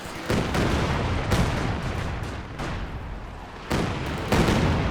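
Katyusha rocket artillery firing in Company of Heroes 2, a dense run of loud overlapping launch blasts and booming impacts with sharp new bursts every second or so, filling the whole stretch with heavy rumbling barrage.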